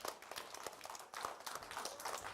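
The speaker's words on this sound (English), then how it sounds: "Come on, give him a big round of applause." Audience applause at a magic show as a volunteer walks up from the back row: quiet, fairly distant scattered clapping with uneven bursts throughout.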